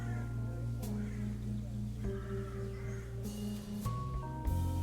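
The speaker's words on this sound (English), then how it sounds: "Is this by chance your cat, Claus?" A cat meows a few times in the video game Trüberbrook, sitting over steady background music and ambient tones at moderate loudness with no talk.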